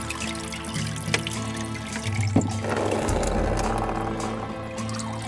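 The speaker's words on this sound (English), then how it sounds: "So basically I just got to separate the pump from the plumbing. Let it drain down a little bit." Water drains out of aquaponics pump plumbing once the pump is separated, running in a close, gurgling trickle that builds into a steady rushing flow.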